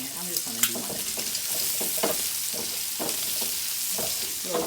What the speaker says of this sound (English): A little saute on them.